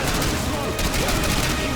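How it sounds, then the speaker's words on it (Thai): Gunfire in the video game Call of Duty: Modern Warfare 2, a dense, continuous burst of shots and explosions filling the whole moment, loud and close. "ยิงอัดมันเข้าไป"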